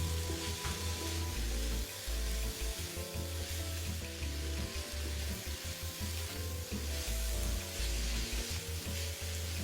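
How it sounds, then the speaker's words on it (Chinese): Ingredients stir-fry in a wok with a loud, continuous close sizzle and repeated low scraping and clanking from the stirring, heard alone without any voices. "在所有食材炒香后"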